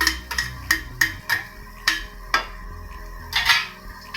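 Finely chopped garlic and ginger going into a pan, a series of sharp close metallic taps and scrapes of a utensil against the pan, irregularly spaced and fairly loud.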